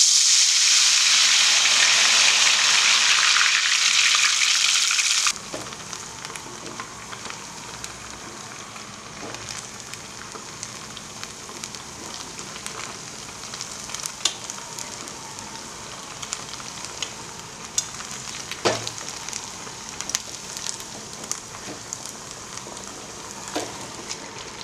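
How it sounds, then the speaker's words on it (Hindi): Ghewar batter poured into hot ghee over a high gas flame: an intense hissing sizzle for about five seconds, then settling into softer, continuous frying crackle with scattered pops. "हमने गैस की फ्लेम को तेज कर दिया है और हमारा घी गर्म हो गया है। अब हम इसी तरीके से इसको ऊपर से डालेंगे।"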